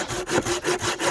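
A hand saw cuts through wood outdoors by a river in a rhythmic series of rasping back-and-forth strokes, about five quick strokes close up, with no talking.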